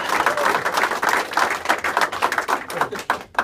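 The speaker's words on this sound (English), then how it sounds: "Give yourselves a round of applause." A crowd at a political endorsement event applauding, a dense patter of many hands clapping that thins out toward the end, with a faint voice underneath.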